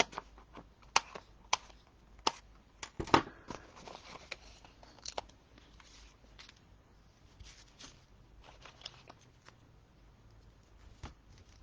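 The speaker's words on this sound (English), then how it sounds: "Let's snip the dimensionals up" Scissors snip through foam dimensionals on a crafting table, a run of short, sharp close-up clicks and cuts scattered irregularly with brief pauses, no voices.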